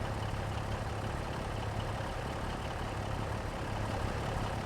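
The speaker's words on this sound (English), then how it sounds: "And it's a little tractor. Damn, it's loud." A small tractor engine in Farming Simulator 25 runs loudly in a steady, low, droning hum with no changes in pitch, and no talk over it.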